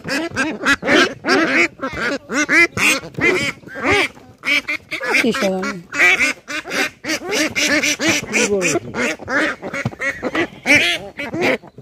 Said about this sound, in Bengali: হাঁস দেখতেছি